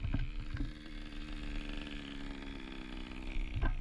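Small Kyosho PureTen Mk1 nitro RC car engine running at a steady buzzing idle, fairly quiet and close, with a couple of brief revs near the start and end.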